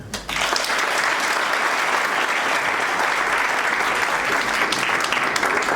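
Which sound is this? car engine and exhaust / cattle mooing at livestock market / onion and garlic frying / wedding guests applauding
wedding guests applauding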